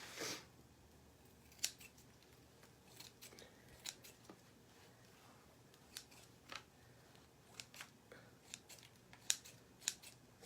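Scissors snipping moss for a small moss bunny craft, a series of quiet, irregular close crisp snips spread over several seconds.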